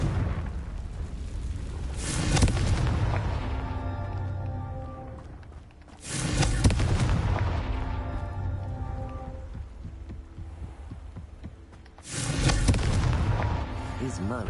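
Three heavy Confringo fire-spell blasts from Hogwarts Legacy on PS5, each a loud broadband boom about six seconds apart, followed by a long rumbling roll-off, with a voice speaking briefly between them.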